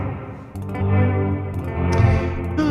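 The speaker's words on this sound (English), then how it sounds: "just a nice reverb patch" Guitar played through a reverb effects pedal patch with fast modulation, sustained washy chords swelling and trailing off in a long, echoing tail, loud and alone.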